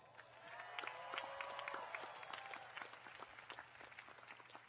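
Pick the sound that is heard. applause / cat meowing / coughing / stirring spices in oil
applause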